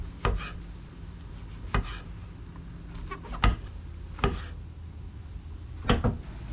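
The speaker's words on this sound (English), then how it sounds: "probably gonna start cutting up few mushrooms" A knife cuts mushrooms on a board in a van kitchen, a handful of sharp, irregularly spaced chops heard close and fairly quiet against a soft background.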